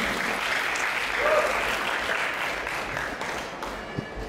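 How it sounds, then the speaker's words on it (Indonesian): Audience at the Islamic Book Fair 2025 applauds continuously for over four seconds, a dense, loud wash of clapping from a large crowd that holds steady and only slightly thins toward the end. "Terima kasih tepuk tangan teman-teman untuk Gus Dovi."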